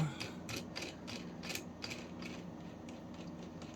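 Faint metallic clicks and ratcheting ticks as the cone on a Sturmey Archer S5 five-speed internal gear hub is loosened, a quick burst of irregular clicks early on thinning to sparse light ticks, close and quiet with no talking.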